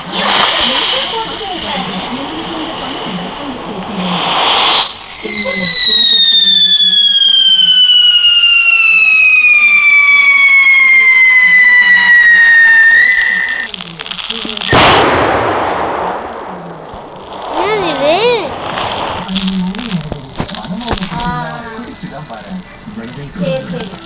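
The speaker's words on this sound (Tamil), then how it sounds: "காலை வெடிக்கும் பட்டாசு இது" A firecracker goes off with a long rising and falling whistle and hiss lasting several seconds, followed by a sharp burst and crackling, with people talking before and after.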